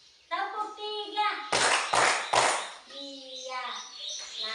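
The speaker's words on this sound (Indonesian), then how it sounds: "Tepuk 1, tepuk 2," Group of children clapping in a classroom call-and-response routine, three sharp broadband bursts of claps in quick succession, framed by children's voices chanting before and after.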